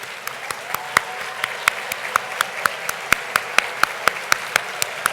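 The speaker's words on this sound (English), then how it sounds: "Can you please stand so we can applaud you?" A standing dinner audience claps at a closing plenary, with sharp, loud individual claps standing out in a fairly regular rhythm over a softer bed of general applause.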